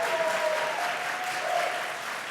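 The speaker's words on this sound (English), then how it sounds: "Can we give a round of applause to our NFTE educators?" Audience applause for educators at a youth entrepreneurship challenge event, a steady wash of clapping from a sizable crowd that holds even throughout, with a faint feedback-like tone ringing through it.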